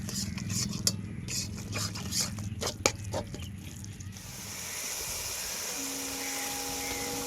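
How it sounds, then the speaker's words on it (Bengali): A spatula scrapes and clinks against a pan as spice masala with Kashmiri chilli is stirred and fried for a home-style chicken curry, irregular metallic knocks at first, then giving way to a steady hiss with faint tones. "এবার ভালো করে মশলাটাকে আমরা কষিয়ে নেব"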